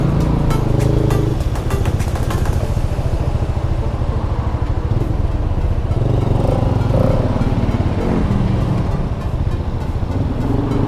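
A Rusi Plain 150 motorcycle engine runs steadily up close, a loud continuous rumble with some clattering, staying at an even level throughout.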